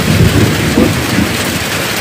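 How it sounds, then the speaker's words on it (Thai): Heavy rain pours down loudly and steadily during a thunderstorm, with deep rumbling thunder rolling underneath the dense hiss of the downpour. "ฝนตกพาเดือดพี่น้องเอ้ย"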